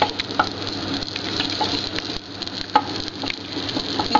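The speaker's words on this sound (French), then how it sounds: "fait fondre le beurre sans le faire rôtir" Butter, about 30 to 40 grams, melting in a pan on gentle heat, giving a steady close sizzle with faint crackles and small clinks throughout, no talking.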